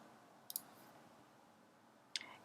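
Two faint, crisp mouse clicks, about a second and a half apart, sound in a quiet room while the Create Event button on Facebook is pressed.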